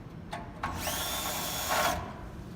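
A power driver with a 1/4 inch bit backing screws out of a burner pilot assembly, heard as a couple of brief clicks followed by a near, steady whirring spin of about a second that stops abruptly.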